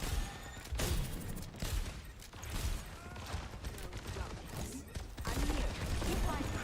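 Rapid gunfire aimed at Torbjörn, the dwarf hero in Overwatch, crackles in dense bursts over a busy match mix of mechanical clatter and effects, sustained and fairly loud through the whole stretch.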